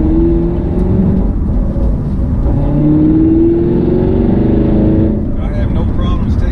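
A Camaro 1LE on Continental 335 tires pulls hard in third gear, a loud, sustained engine drone with rising pitch heard from inside the car, while someone talks over it.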